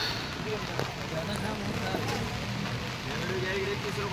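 Rain falls over an outdoor Tuesday weekly market as a steady wash of patter, with market bustle and people talking throughout.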